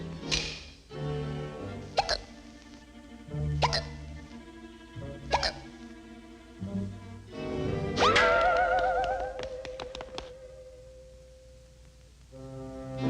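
A Daffy Duck cartoon character from the 1942 Looney Tunes short The Impatient Patient hiccups repeatedly in a regular rhythm, each hiccup a sharp cartoonish jolt over a brassy orchestral score with a wobbling comic slide.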